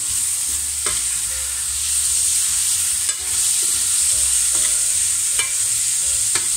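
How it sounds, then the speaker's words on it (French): Leeks slowly confit in fat in a cast-iron pot, a steady close bright sizzle broken by occasional stirring scrapes and taps. "Et on va les laisser tranquillement se confire dans la matière grasse."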